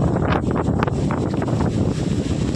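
Strong outdoor wind roars steadily across a village setting, buffeting the microphone in loud continuous gusts with faint rustling, no talking.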